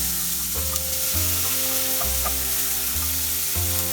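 Nigella seeds, asafoetida and finely chopped onion fry in hot oil over a medium flame. The loud, dense sizzle is steady and close, with no speech over it, and a low hum rises and falls underneath.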